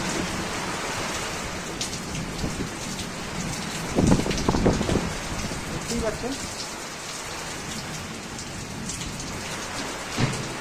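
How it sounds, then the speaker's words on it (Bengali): Kalbaishakhi storm in Barasat, heavy rain pouring steadily with strong wind, a dense continuous wash of rain close by, with a louder burst around the middle and a brief spoken phrase over it. "তীব্র গতিতে বাতাস বৃষ্টিপাত দুটোই হচ্ছে ঝড় বৃষ্টি দুটোই হচ্ছে একসাথে কালবৈশাখী ঝড় যাকে বলে"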